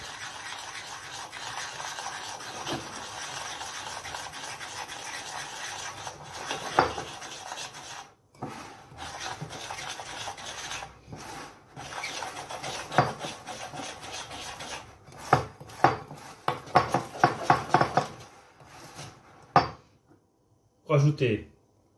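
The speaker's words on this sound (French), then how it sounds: "vous allez mettre la moitié de la farine et vous allez mélanger de l'intérieur vers l'extérieur" Flour being mixed into chocolate chip cookie dough in a bowl, a continuous rasping, rubbing scrape of utensil through stiff dough, with intermittent louder scrapes and knocks and brief pauses near the end.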